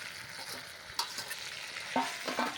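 Ginger, garlic and green chili paste frying in a pan over browned onions for a potol chingri dish, a soft sizzle with a few clinks and scrapes of a spatula, fairly quiet and close, no talking.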